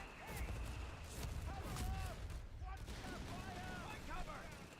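Indirect artillery fire in Company of Heroes 3 during an Operation Torch match: a dense, continuous clatter of distant booms and gunfire layered over one another, with scattered bursts and a busy battle din throughout.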